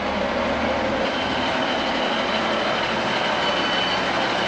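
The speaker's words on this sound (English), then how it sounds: "this indeed is our train" A ScotRail train pulls into Glenfinnan station with a loud, continuous rumble and hiss of wheels on rail, with no break for its whole length and no talk over it.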